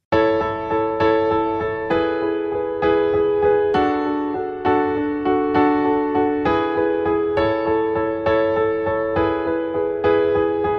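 Piano chords struck in a steady, even pulse, each chord repeated several times before shifting to the next, ringing clearly with no voices.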